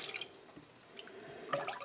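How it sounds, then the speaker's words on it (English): Four cups of water pour into a large pot during fermented ginger ale preparation, giving a soft trickling splash with a brighter burst of droplets near the end. "So to this I'm adding my 4 cups of water."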